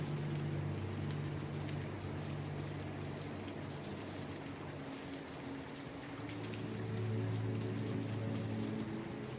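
Steady rain falls continuously, a dense even hiss of drops on surfaces with a low droning hum beneath, loud and close with no voices.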